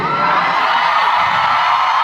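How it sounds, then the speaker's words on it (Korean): Concert crowd cheering and whooping on the final day of a K-pop solo show, a loud sustained roar filling the hall without pause. "오늘 마지막 날이라 아주 함성이 작정하는 듯한 느낌이 들리는데"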